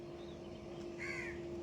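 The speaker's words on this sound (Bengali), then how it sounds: "এদিকে অনেক দিন বাদে কাকের আওয়াজ পেলাম" A crow caws once, fairly faint and somewhat distant, against a quiet early-morning background with a steady low hum.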